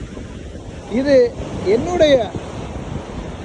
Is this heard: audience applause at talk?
no